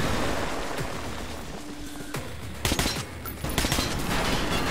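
Gunfire in the post-apocalyptic shooter game Metro 2033 Redux, with dense, continuous rattling shots over a roaring background and sharper bursts toward the end, fairly loud throughout.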